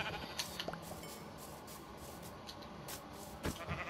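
Sheep in a blocky sandbox video game let out a few faint, short bleats over a hissy, noisy background, with no talking.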